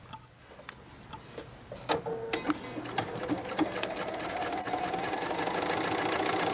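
A sewing machine stitches a Covid-19 fabric face mask, starting with scattered ticks and clicks before settling into a continuous, steadily building whir of stitching, close and clear with no talk.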